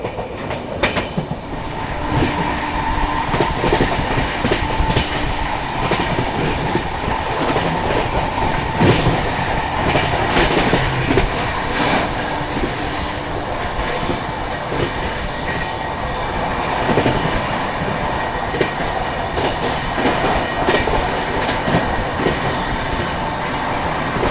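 Interior of the Kolkata Duronto Express at speed passing over back-to-back crossings, with a constant loud rumble broken by clusters of sharp wheel clatters and clicks as the coaches cross the points, and no voices.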